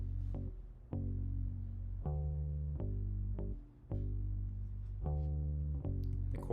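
Synth bass line with punchy, plucked notes struck roughly every half second to second, each decaying quickly with a deep low end, playing alone and fairly loud.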